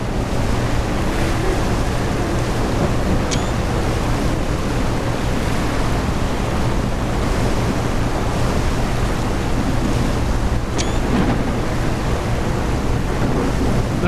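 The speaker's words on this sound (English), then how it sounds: "let's see what these waves are all about" Ocean waves in the Seafarer ship sim game, a constant loud roar of surf and wind around a boat, with a couple of brief faint high tones, no talking.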